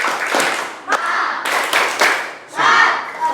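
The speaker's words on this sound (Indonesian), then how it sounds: "Ice breakingnya adalah tepuk semangat ya." A group in a classroom performs the 'tepuk semangat' ice-breaker clap, with loud rhythmic bursts of clapping in a patterned sequence mixed with group voices.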